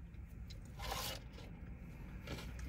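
A few faint, close crunches of someone biting into a Wendy's Pretzel Baconator, short bursts separated by quiet chewing noise.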